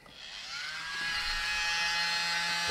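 Mini blower pushing air across an acrylic paint pour mixed with Floetrol, giving a steady high electric whine and hiss that swells after starting and holds up close, with no voices.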